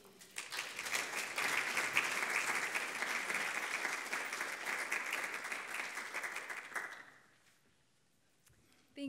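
Steady applause from an audience at an art history lecture welcoming speaker Layla Bermeo, a full room clapping evenly for about seven seconds before fading out into near silence.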